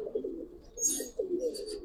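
Giribaz coloring pigeons, a breeding pair, give a few low warbling coos close by, with a brief higher rustle or chirp mixed in, no talk over them.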